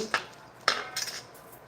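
A utensil stirs food in a pan on a switched-off stove while making a Jamaican curry dinner. There are two sharp metallic clinks and scrapes, then a short run of softer scraping, close and clear.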